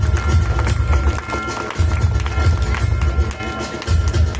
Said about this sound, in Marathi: जोरदार टाळ्या वाजूया कुमारी जानवी हिच्यासाठी.